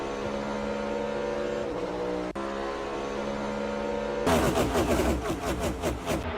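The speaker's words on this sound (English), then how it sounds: "Now here comes Ross Chastain passing Ricky Stenhouse as Larson will lead another lap" Stock cars at Charlotte Motor Speedway in a NASCAR video game, a steady loud engine drone from the racing field, shifting partway through to a rougher, pulsing roar as cars pass close.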